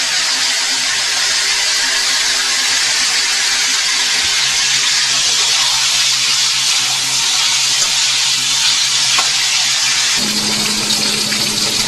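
Chicken karahi pieces frying in a pan until golden brown, giving a loud, steady broadband hiss that runs unbroken throughout, with a low hum joining near the end.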